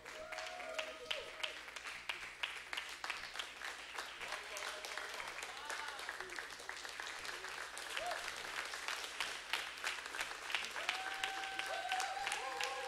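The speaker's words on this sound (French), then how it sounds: "Est-ce qu'on peut se tenir debout et acclamer le Seigneur pour sa parole?" A church congregation at a Sunday worship service stands and applauds, a dense steady roar of many hands clapping that swells slightly toward the end, with scattered voices and a few tonal calls mixed in.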